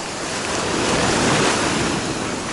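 Ocean waves roll onto the Greek coast in a steady, loud broadband wash of surf, with wind buffeting the microphone throughout and no voices.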